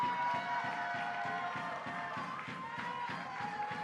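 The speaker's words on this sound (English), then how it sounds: "Let's give him a wonderful, warm round of applause." A crowd claps and cheers for a speaker at a gathering. The clapping has a quick, regular rhythm at close to medium range and continues steadily, with some crowd voices mixed in.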